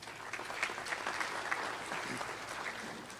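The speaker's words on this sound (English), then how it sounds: "Give Doug a round of applause." A banquet hall audience at a dirt-track racing awards night applauds a ninth-place street stock finisher, a steady wash of many hands clapping at moderate distance for about three seconds.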